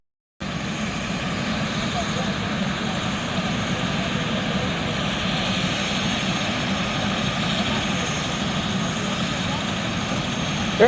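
Helicopter engine and rotor running steadily on a tourist joyride flight, a loud, continuous drone with a constant throb that starts abruptly and holds for the whole stretch, with no talk over it.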